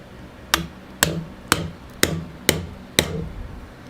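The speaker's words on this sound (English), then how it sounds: "I also don't know if it is allowing my chisel to make the cuts" A chisel struck into wood by a mallet, six evenly spaced sharp knocks about half a second apart, close and fairly loud, each followed by a short hollow decay over a quiet background.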